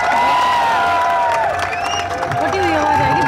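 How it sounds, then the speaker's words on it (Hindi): A crowd of students at a protest welcomes wrestler Bajrang Punia with loud applause, clapping and cheering. The noise runs steadily under a shouting voice amplified through a loudspeaker. "जोरदार तालियां रुकनी नहीं चाहिए भाई।"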